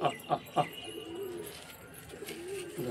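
A pigeon coos in a few soft, low bursts near the start, then fades into a murmuring background with faint voices, while the bird hesitates over landing among a flock that has already come down.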